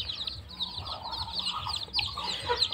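Native (deshi) chickens with about twenty chicks cluck and peep continuously at close range in a farm setting during winter, with overlapping high chirps and soft clucks throughout.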